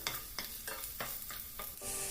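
Chopped ginger fries in a pan while being stirred, producing a soft sizzle broken by regular scraping strokes of the spoon about every third of a second, fairly quiet and with no talk.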